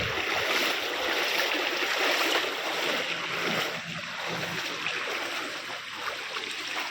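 Floodwater rushes steadily through a flooded cremation ground, a continuous broad wash of flowing water heard up close with no break.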